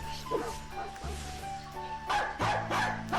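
Dog barking in the Meme Sea video game, a few quick barks and yips mixed with game effects and background music, moderately loud, with a voice talking over parts.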